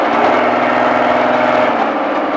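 An exotic car engine held under steady throttle on a Baja-style course, a continuous dense mid-range drone with a strong harmonic buzz, loud and close, no voices.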